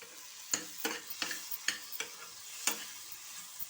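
Quiet stirring and scraping of tomatoes cooking in a pan, with soft sizzling under several sharp clicks of a utensil against the metal.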